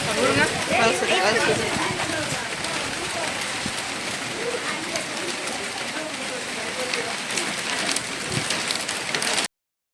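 Steady rain falls with a dense, hissing patter across the whole stretch, close by and fairly loud, with no break.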